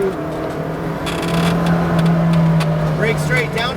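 A McLaren GT4 on a race track climbs through its revs, a steady loud engine drone rising in pitch before a shift, with an instructor's voice talking over it.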